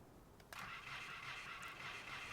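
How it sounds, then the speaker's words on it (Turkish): A tractor engine in the video game Farming Simulator cranks and catches after a short click, then settles into a steady mid-pitched rumble, heard alone at a fairly quiet level. "Şöyle traktörümüzü çalıştırmamız lazım."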